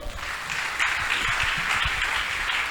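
A church congregation at a French-language Sunday service claps together in a steady, moderately loud wash of applause that holds throughout, with scattered voices mixed in.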